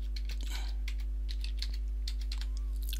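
A password is typed on a computer keyboard, with a dozen or so crisp, close keystrokes tapped in an uneven rhythm over a loud steady electrical hum.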